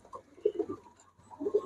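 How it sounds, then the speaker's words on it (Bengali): Belgian-blood racer pigeons coo in a shop, two soft throaty bursts of low rolling coos close by, separated by a brief pause, with no talking. "বেলজিয়াম ব্লাডের কবুতর ভাই এগুলা"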